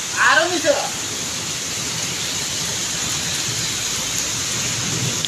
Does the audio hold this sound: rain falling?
yes